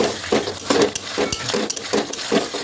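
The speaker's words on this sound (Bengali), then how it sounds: "জিরেগুলো দিয়ে এবার কিন্তু মশলাটা কষে নেবো" Masala paste of ginger-garlic with cumin seeds is stirred and fried in a pan for winter khichuri, with rhythmic scraping strokes of a spoon repeating about every half second over a soft sizzle, close and without talk.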